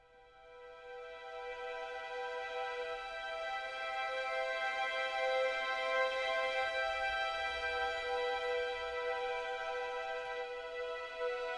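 Sampled strings play a flautando passage, a breathy, airy sustained chord that swells gently and holds steady, soft and alone.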